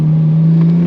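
An R33 Nissan Skyline with an RB25 turbo engine and an HKS air intake holds a steady, loud drone in a short burst, with intake hiss over it.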